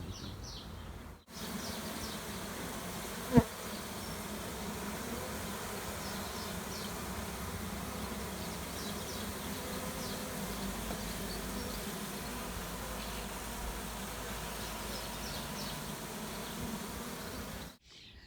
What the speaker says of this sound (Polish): dzisiaj przywiozłem kolejny rój, to już generalnie jest drugi rój